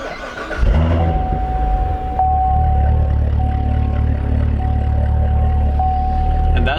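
A Chevrolet Corvette Z06 engine cranks and catches, then settles into a loud, deep, steady idle close by, with a faint tone running through it.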